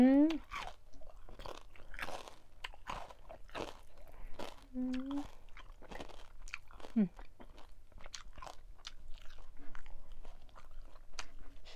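Crunchy bites and chewing of crispy German pork knuckle served with a spicy Thai long-bean pounded salad, close and repeated in bursts, with a voice talking intermittently.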